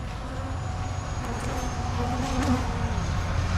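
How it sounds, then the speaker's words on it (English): Swarm of honey bees on a homestead buzzing hard against a beekeeper's head netting, a dense continuous drone close to the ear that stays steady and loud throughout, with no talk. "They are trying their best to get through this netting, to get to my head"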